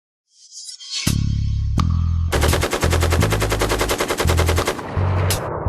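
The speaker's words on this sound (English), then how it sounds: "This is the M416. Full name M416 automatic rifle." An M416 automatic rifle fires a sustained fully automatic burst, loud and close, with rapid evenly spaced shots after a couple of heavy opening booms, no voices.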